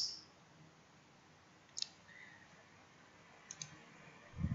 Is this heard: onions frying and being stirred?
no